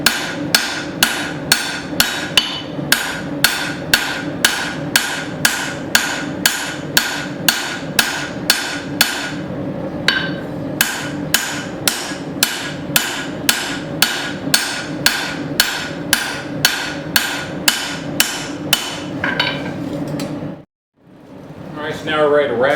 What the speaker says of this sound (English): So I went ahead and picked up a 3-pound hammer.